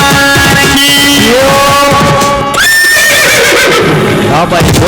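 Horse neighing loudly, a long whinny that rises and falls in pitch over busy background sound and some voices.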